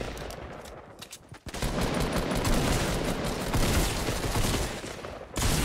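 Rapid gunfire from a Fortnite match rattles out in a dense, continuous burst for several seconds, loud and close, with a short pause near the start and an abrupt cut at the end.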